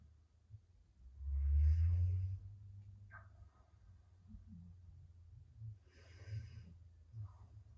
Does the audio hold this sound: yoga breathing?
yes